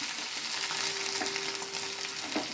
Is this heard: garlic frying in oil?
yes